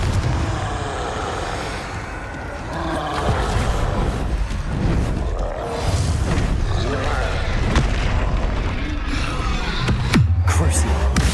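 Confringo blasting spells explode during a hectic Hogwarts Legacy fight, with repeated deep booms and rumbling blasts inside a loud, continuous battle mix and a voice talking throughout.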